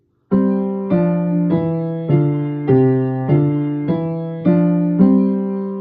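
Piano notes are struck one after another in an even, steady sequence of about nine, the two hands moving in opposite directions, each note ringing briefly, close and clear with no voices.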